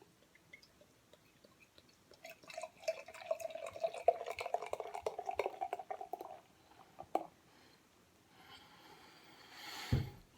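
A Jack's Abby trIPL beer glugs and splashes as it is poured into a glass, a dense liquid rush for several seconds, then fading drips and a sharp knock near the end.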